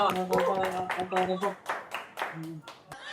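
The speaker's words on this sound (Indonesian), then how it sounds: "kasih tepuk tangan lagi" Scattered audience clapping at a comedy show, individual claps in a loose rhythm mixed with sustained tones and possible voices, thinning out toward the end.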